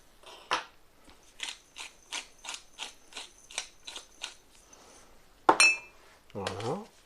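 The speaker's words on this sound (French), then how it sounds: "je rends le mélange plus ou moins uniforme" Breadcrumbs, paprika, salt and pepper stirred together in a plate, giving a run of about nine short, even scraping taps, followed by a sharper clatter and a brief burst of voice at the end.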